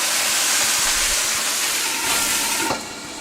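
Water poured into a hot pan of string bean chicken gives a loud, steady steaming hiss and sizzle that cuts off abruptly near the end.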